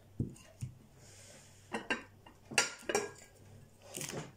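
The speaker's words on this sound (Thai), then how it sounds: "หม้อข้าวเหนียวนะเพน" A pot used for sticky rice and dishes are handled, giving several separate clinks and knocks of metal and crockery at irregular intervals, fairly close and quiet.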